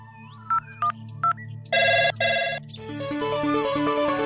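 A phone ringtone plays: a few short melodic chirps, then two loud bursts of ringing, followed by a steady repeating tune, close and clear, with no talking.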